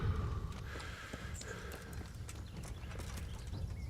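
Horse hooves clip-clop in the medieval game Kingdom Come: Deliverance: a run of separate, moderately close footfalls over a steady low ambient bed, with no talking.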